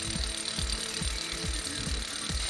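A hammer drill pounds steadily into concrete, its rapid rhythmic thumps close and continuous under a constant motor whine.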